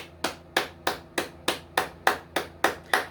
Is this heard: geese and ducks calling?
no